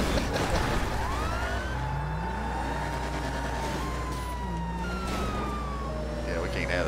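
A police siren wails and sweeps up and down in the video game GTA V, loud and continuous over engine hum, with a voice talking alongside.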